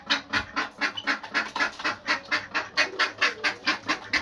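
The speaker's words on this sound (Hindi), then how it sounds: "डक्स को थोड़ा टाइम लगेगा अभी" Ducks and chickens leaving their pen at a small backyard zoo, with rapid repeated quacking and clucking in close, rhythmic bursts that continue without pause.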